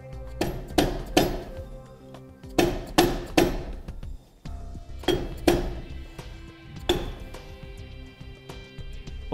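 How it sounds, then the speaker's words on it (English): Metal parts of a Dexter Nev-R-Adjust electric trailer brake assembly as the dust cover is removed: groups of sharp, ringing metallic taps and clinks, close and loud, in bursts of two or three with short pauses between. "Next, we're going to need to remove the dust cover."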